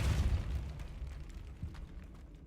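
A Depulso spell goes off in Hogwarts Legacy inside a tomb, a heavy booming burst at the start that decays into a lingering low rumble with a smaller thump midway.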